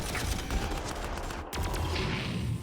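A weapon team opens fire in Warhammer 40,000: Armageddon, a continuous rattle of rapid shots over battle din, briefly dipping before a sharp crack and then resuming at steady volume.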